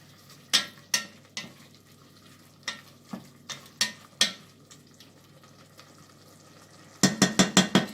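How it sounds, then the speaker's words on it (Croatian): A spoon stirs seasoning into a chicken and potato stew in a pot, making a series of sharp scraping clanks at an uneven pace that ends in a quick burst of rapid strokes, with a low simmering hiss underneath and no talking. "Ja ću za početak prvo da ubacim vegetu. Pomešam."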